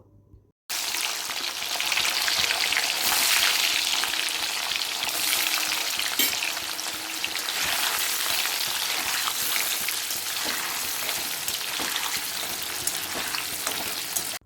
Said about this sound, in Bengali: পনিরগুলো আমি দুবারে ভেজে নিচ্ছি